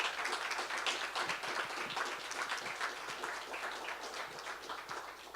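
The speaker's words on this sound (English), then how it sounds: "give a round of applause for Pillar and their staff for hosting us all the time" Sustained applause from a gathered audience at a SecDSM security meetup, honouring the hosts at Pillar; dense steady clapping fills the whole stretch at moderate level without talk.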